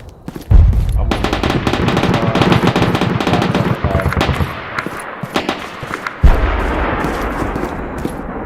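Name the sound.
AK-74 rifle firing in a video game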